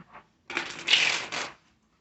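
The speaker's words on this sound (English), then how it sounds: "I want to shuffle one more time." Tarot cards shuffled by hand, one short riffling burst lasting about a second, close and moderately loud after a faint tap, then silence.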